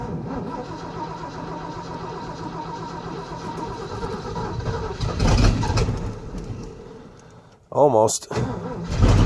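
A 1990 Ford F250 truck with a standard transmission, its engine fired up after sitting unused for three years. A steady mechanical rumble surges loudly midway, then a sharp cranking burst catches into a rev, with a brief spoken word.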